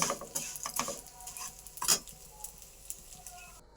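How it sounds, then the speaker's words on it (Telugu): Vermicelli is stirred and roasted in ghee for hotel-style semiya upma, with close scraping and clinking strokes of a spoon over a light, soft sizzle. "నెయ్యి వేసినాక ఇలా తిప్పుకోవాలి."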